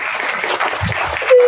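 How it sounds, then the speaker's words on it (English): Audience applause at a ribbon cutting ceremony and open house for Mississippi Care in New Albany, a close, loud burst of clapping from a small crowd that carries on throughout, with a brief voice near the end. "let's give one more round of applause to this group, please"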